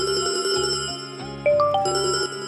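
A mobile phone rings with a bright electronic melody, a repeating pattern of clear tones close by and loud, with no voices over it.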